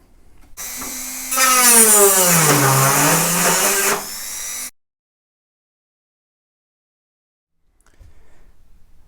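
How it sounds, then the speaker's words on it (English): Dremel rotary tool drilling holes in a thin RC car body shell: a loud high-pitched whine rising as it spins up and bites into the material, running a few seconds, then silence and a faint resumption. "I recommend you to use a Dremel"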